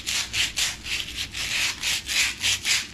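Steel hitch pin scrubbed by hand with sandpaper, a steady back-and-forth rasp of about ten close, even strokes, loud and alone.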